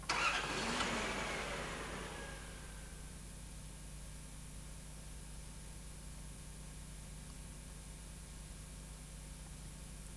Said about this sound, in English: after switching the engine off, then starting it again and driving the vehicle